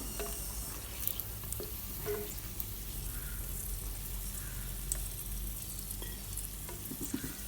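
Cashews roast in ghee in a pan over a low flame, a soft steady frying crackle with faint scattered pops and light stirring taps, fairly quiet and without speech.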